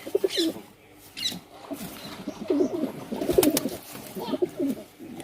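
Pigeons coo nearby, the ten-year-old bird among them, giving repeated low throaty phrases at an uneven rhythm, with a few sharper sounds mixed in.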